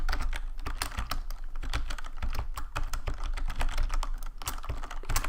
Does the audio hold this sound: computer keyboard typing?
yes